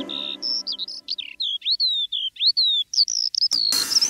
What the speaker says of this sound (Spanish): Si hago silencio yo puedo escuchar un pájaro cerca trinar.